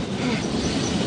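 A train rolls past on railway tracks, a loud continuous rumble and wheel clatter filling the whole moment, close by and alone.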